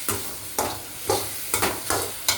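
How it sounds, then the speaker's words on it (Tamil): Fenugreek seeds, chana dal and urad dal frying in a little oil for tomato chutney, with a steady sizzle and about six rhythmic scrapes of a spoon stirring the pan. "வெந்தயம், கடலைப்பருப்பு, உளுந்தம்பருப்பு, உடைச்ச உளுந்தம்பருப்பு போட்டு கொஞ்சம் எண்ணெயில் வணக்குவாங்க"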